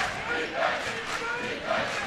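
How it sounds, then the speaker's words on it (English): Jesuit high school student section chanting a loud defensive cheer in a basketball gym, a roaring crowd of voices with rhythmic swells, rising above the game. "Defensive cheer coming up from the loud and raucous Jesuit student section"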